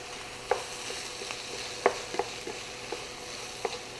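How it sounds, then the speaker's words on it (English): Spoon stirring flour into a ground beef mixture in a skillet, with soft scraping strokes and occasional sharp taps against the pan over a steady quiet sizzle, with no talking. "we're going to stir this together for 1 to 2 minutes till we get that flour incorporated into the meat mixture"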